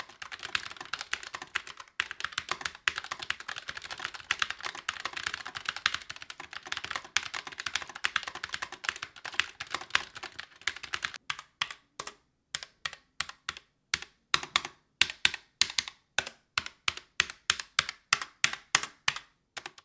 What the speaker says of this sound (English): Naturally, you probably want to hear what this keyboard sounds like, so here's a quick typing test.